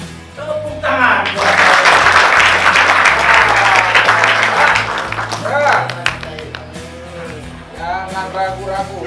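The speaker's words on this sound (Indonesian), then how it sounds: "Tepuk tangan!" Loud applause and clapping from a crowd, swelling and fading over several seconds, with voices and cheering mixed in.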